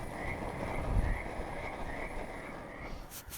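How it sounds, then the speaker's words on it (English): Frogs croak through the night at a desert camp, a regular series of rhythmic, evenly spaced croaks in the distance over a quiet outdoor background, without talk. "we had the company of frogs all night long."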